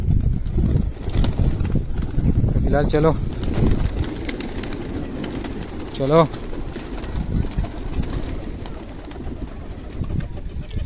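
Pigeons being readied for a short warm-up flight, with soft coos and a few brief calls over a murmur of background noise while someone talks nearby.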